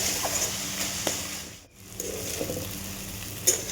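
Khuria greens being stirred and fried in a pan, a soft continuous sizzle with light scraping and clicks from the stirring, briefly dipping quiet midway.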